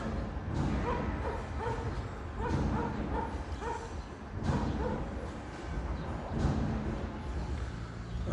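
Several street dogs bark repeatedly in overlapping bursts, with yips mixed in, loud and close throughout.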